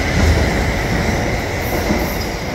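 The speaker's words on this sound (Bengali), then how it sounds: "এই ট্রেনটা চলে গেল।" A train departing Stockholm railway station in Sweden, a loud, close, continuous rumble of wheels on rails with faint metallic squeal, no voices.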